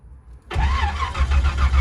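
An old V8 in a Chevy S10 pickup with a weak battery catches after a moment of quiet, cranking into a loud, rough burst of engine noise, close up.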